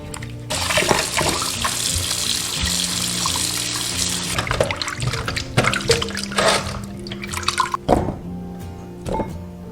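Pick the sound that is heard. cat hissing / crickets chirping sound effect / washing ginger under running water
washing ginger under running water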